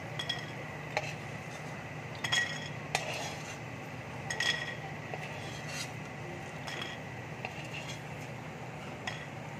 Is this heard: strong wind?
no